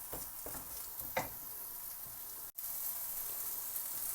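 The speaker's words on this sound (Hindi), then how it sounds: "प्याज, प्याज को हम थोड़ा सौते कर लेंगे।" Onions sauté in a pan of cooking oil, giving a soft, steady sizzle with a few brief stirring scrapes, faint and close with no talking.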